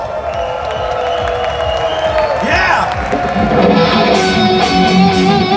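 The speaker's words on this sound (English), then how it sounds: "Give her a big applause." Concert crowd at the Eurorock 2015 festival applauds and cheers before a song, a continuous wash of clapping and shouts with a brief whoop, heard under amplified stage sound and a voice.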